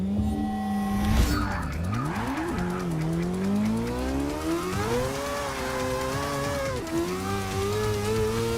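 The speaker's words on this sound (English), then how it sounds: "Roasting them tires." Tires squeal and skid on a 2014 Nissan Juke Nismo RS in the racing game Forza 6, a loud sustained screech with a rising and falling engine whine underneath, no talking.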